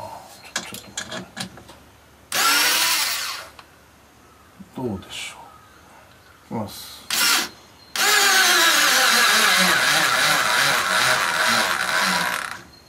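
An electric drill driver in drill mode whirs in several bursts, the last one long and straining as it drives a 65 mm coarse-thread screw, with brief speech and clicks between runs.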